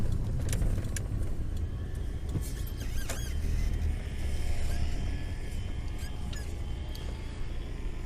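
A 1994 Lancia Integrale Evoluzione 2 on a test drive, its engine droning steadily from inside the car with road rumble and occasional faint squeaks and clicks, no talking.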